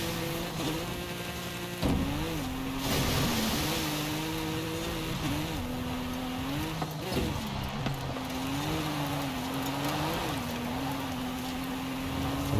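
A Porsche driven off-road in Forza Horizon 5, its engine droning and wavering in pitch as it revs up and down, with occasional bumps and shifts, fairly quiet throughout.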